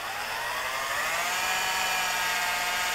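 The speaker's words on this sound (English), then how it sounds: "And we'll drill the piece of wood." A power drill whines steadily as it bores into wood, a continuous high buzzing that holds constant for a few seconds.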